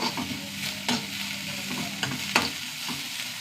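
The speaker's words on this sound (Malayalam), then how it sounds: "നന്നായി വറുത്തെടുക്കണം." Prawns fry in a pan with oil. A steady sizzle sits close by, and a few sharp scraping and tapping strokes from stirring come at intervals.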